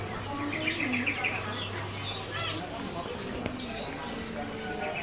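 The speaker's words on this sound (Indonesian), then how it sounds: "Ini ganggang bayam, jenis ganggang bayam." Black-winged stilt calling in a bird and rabbit market, with quick repeated chirps over busy background chatter and crowd noise, moderately near and partly masked by voices.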